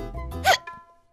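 A woman gives a single sharp hiccup in a TV drama scene, a brief loud vocal gulp after some quieter sound, then trailing off.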